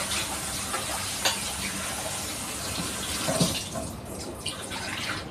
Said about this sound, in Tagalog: Lagyan ko ng konting tubig.